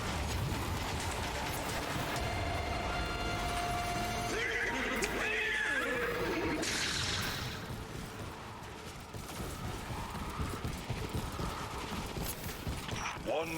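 A horse whinnies amid a busy game soundscape with mechanical clanks and creaks, while a voice talks over it; the noise eases after a few seconds.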